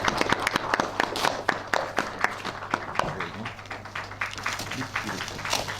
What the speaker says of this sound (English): We will clap our hands.